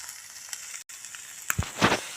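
Fish sizzling and crackling in a hot pan, a steady soft frying hiss with a few louder pops near the end, no talk.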